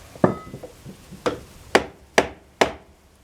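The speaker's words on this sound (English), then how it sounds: "I do have a hammer here." Hammer knocking on a small wooden block to shift a little sawmill, five sharp, ringing strikes spaced about half a second apart, close and clear over a quiet background.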